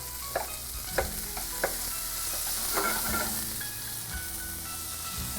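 Chopped half onion is dumped into a pan where bacon is rendering, with a few clunks as it lands. A loud, continuous frying sizzle follows, close up, with no talking.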